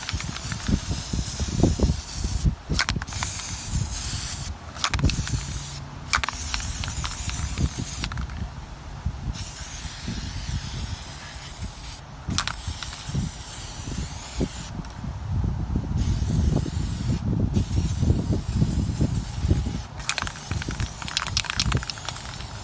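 Hissing aerosol air filter oil sprayed outdoors onto a 2000 RM125 motorcycle's air filter in repeated spurts, with handling clatter and bumps mixed in between, close by.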